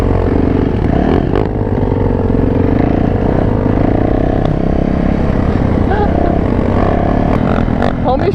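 A Thumpstar dirt bike's engine revs loudly and steadily, a rough, continuous motor roar with some clatter, with voices faintly present underneath.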